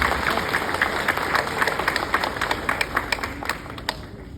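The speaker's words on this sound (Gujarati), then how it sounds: "એકવાર ખૂબ જોરદાર તાળીઓ સાથે" Loud audience applause at a stage event in Ankleshwar GIDC, many hands clapping in a thick, sustained roar that keeps an even intensity throughout, with no speech.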